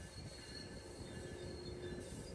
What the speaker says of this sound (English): Train 875 crosses onto the northbound track just before the Spalding Street Bridge